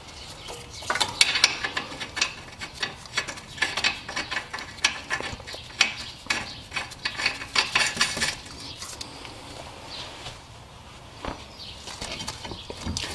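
Ratchet clicking in short, uneven bursts as strut nuts are driven back on during a front strut replacement on a Toyota Camry, with occasional metallic clinks between spells of turning.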